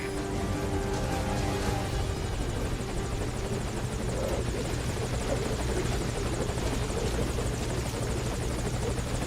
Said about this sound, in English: Put the target on the chopper.